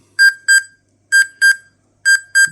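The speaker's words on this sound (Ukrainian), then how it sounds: "Отак сигналка спрацьовує вже не зеленим, а червоним блимає і голосно." A handheld dosimeter Geiger counter alarm sounds loud, shrill electronic beeps in pairs, three double-beep bursts with short silent gaps between them, close and alone.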